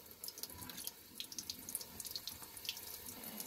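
Water runs steadily from a kitchen tap over a pet budgie being washed at the sink, a continuous hiss with small splashes and drips breaking the stream, close by with no talk.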